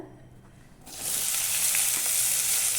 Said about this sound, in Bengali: তেলটা গরম হয়ে গিয়েছে, আমি এখানে দিয়ে দিব পেঁয়াজ কুচিটা